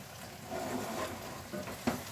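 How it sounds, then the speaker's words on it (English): Food being stir-fried in a pan, a soft steady sizzle with faint stirring scrapes and a small clink near the end. "It's already starting to stir fry"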